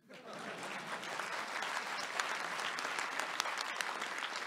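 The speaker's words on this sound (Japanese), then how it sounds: "ここは拍手ですね。" A hall full of delegates at a Japanese political party convention breaks into applause, swelling quickly from silence into a steady, distant-sounding patter of many hands that continues for several seconds.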